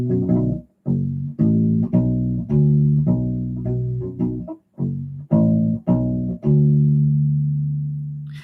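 Solo U-Bass playing a bass line, a round rubbery-stringed riff of plucked notes repeating in a looping rhythmic pattern, close and clean, ending on a long sustained low note.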